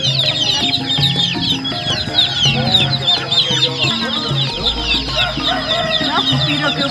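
Chicks, hens and free-range village chickens at a busy morning poultry market in Sumpiuh, Banyumas, with dense continuous clucking and peeping from many birds close by, plus occasional crowing.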